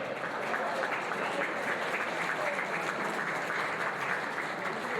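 A crowd at a wrestling hall of fame ceremony keeps up a continuous roar of applause and cheering, a thick, even wash of clapping that neither swells nor fades, with no voice rising above it.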